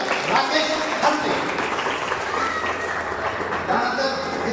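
Applause rises from the audience at an Indian Medical Association award and installation ceremony as a runner-up in badminton, table tennis and carrom is honoured, steady clapping under a reverberant hall ambience with a voice speaking over it.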